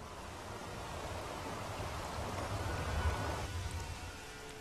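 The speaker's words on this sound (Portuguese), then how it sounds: "As chuvas vêm e vão tão rapidamente como começaram." Steady rain falling in the Amazon rainforest near Manaus, a dense continuous hiss of drops that swells slightly midway, with no voices over it.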